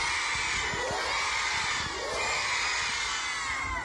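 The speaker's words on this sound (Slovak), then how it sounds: "všetci teraz spoločne zakričíme trikrát hurá" A crowd of children at an outdoor event in Kežmarok shouts a cheer together three times, high voices rising in loud bursts amid general crowd noise.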